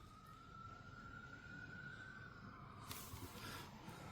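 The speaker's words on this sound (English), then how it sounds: "Hear the sirens in the background." A faint siren wails in the distance, a steady rising tone under a constant low rumble of traffic or wind.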